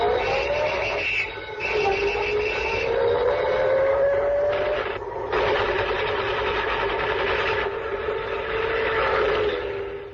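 A police radio drama opens with a dense sound-effects montage: wailing, gliding siren tones over continuous mechanical rattling and bursts, loud and unbroken for the whole stretch.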